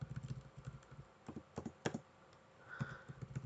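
Keys on a computer keyboard are tapped in quick irregular clusters, close and fairly quiet, with the tab key pressed repeatedly amid the clicks and no voices.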